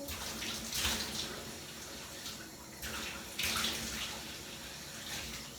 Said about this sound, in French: Donc vous rincez bien votre visage, tous les côtés.